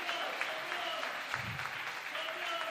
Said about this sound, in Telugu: చప్పట్లు కొట్టి దేవుని నామమున మహిమ.